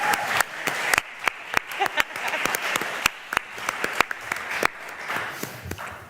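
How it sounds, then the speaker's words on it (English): Applause for a participant at a cyber games draft day event, a modest group clapping with sharp, separate claps standing out over a thinner background of hands, moderately loud and fairly close. "Can we give Eric an applause here?"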